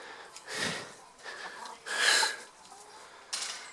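Chickens in a backyard coop, several throaty clucks and rasping calls in short bursts, fairly close, with no voices over them.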